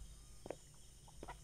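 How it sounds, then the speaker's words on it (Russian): Rooster calling in the survival video game Mist Survival, a couple of short clucking, crowing bursts at moderate distance over a steady low ambient hum. "Где ты, тварь? Где ты кукарекаешь?"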